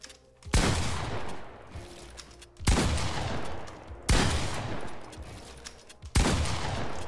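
Bursts of gunfire in the Fortnite battle royale game arrive in four loud volleys about every one and a half seconds, each a sharp crack trailing into a rattling decay.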